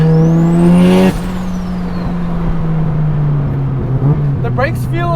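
Big-turbo Mazda RX-7 with a bridgeport 13B rotary engine pulls hard under acceleration, a loud, steady droning engine note running throughout, with voices talking over it at the start and near the end.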